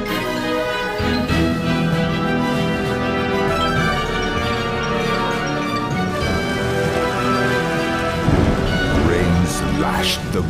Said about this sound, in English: suddenly, there was a heavy storm.